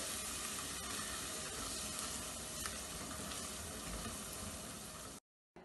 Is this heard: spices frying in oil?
yes